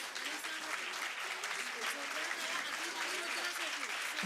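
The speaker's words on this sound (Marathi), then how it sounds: "जोरदार टाळ्या आदिश आणि रुद्रसाठी" A school audience claps steadily and loudly at a Std X annual social gathering, a dense, sustained round of applause filling the whole stretch.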